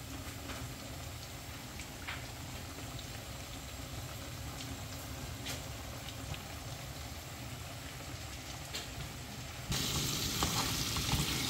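Shrimp fry in a pan of reducing sauce, giving a soft continuous sizzle and crackle with occasional pops, fairly quiet and close, growing brighter and louder near the end.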